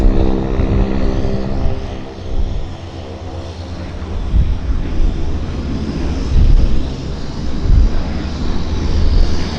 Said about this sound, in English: It's a medevac.